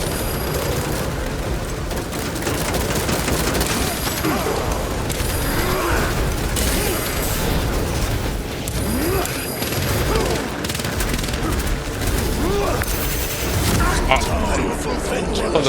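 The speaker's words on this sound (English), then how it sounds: "Deploying frag grenade." Warhammer 40,000: Space Marine 2 combat: dense rattling gunfire and booming blasts, including a frag grenade explosion, run continuously under game voice lines, loud and cluttered with mechanical clanks.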